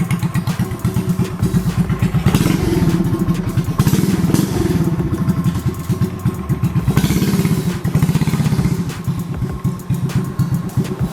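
A 125 cc engine fitted to a low rider bicycle runs steadily close by, a loud, throbbing putter with a thin bass edge, rising and falling slightly in revs throughout, with no talking.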